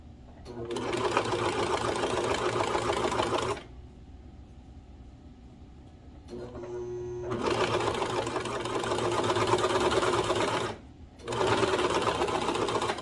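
A cover stitch sewing machine hums and whirs at close range while hemming a romper, running in three long steady bursts with a brief quieter pause and a short slowdown between them.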